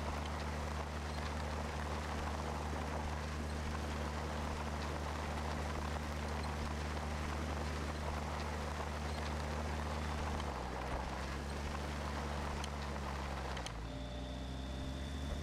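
A JCB farm tractor engine in the video game Pure Farming 2018 drones steadily and alone throughout, with its pitch dropping slightly twice near the end.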